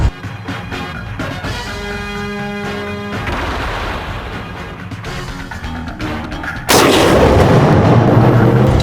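A bomb goes off in a film scene, a loud boom with heavy, jolting rumble that swells abruptly near the end after a stretch of sharp, crackling blasts, close and dominant with no talk.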